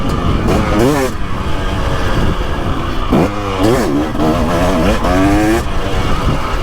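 KTM 300XC dirt bike engine on a 2023 model, revving and rising in pitch through repeated accelerations and gear shifts, loud and close with wind noise, while a rider talks over it.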